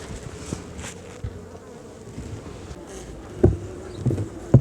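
Honeybees buzz steadily around an open hive being readied for winter with eight frames, a close continuous drone with several louder thumps and knocks of hive handling near the end and no talking.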